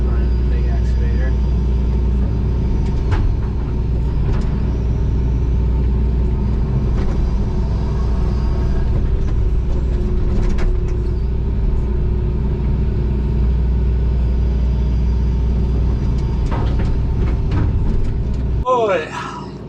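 Big John Deere 225 excavator engine rumbling steadily and close while loading trucks on a foundation dig, a continuous low drone with small surges and occasional clanks, ending abruptly.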